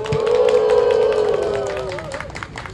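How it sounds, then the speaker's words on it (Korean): Audience applause welcoming a government minister at a public gathering: dense, sustained clapping from a crowd, steady and fairly loud, with a sustained tone running through it before it thins toward the end. "다시 한번 큰 박수로 환영해 주시기 바랍니다"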